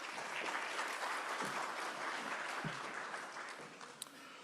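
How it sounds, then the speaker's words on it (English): Applause from a conference audience: a dense, steady wash of many hands clapping for several seconds, filling the room and tapering slightly toward the end, with no talking. "I think another round of applause for Mr. Zondi"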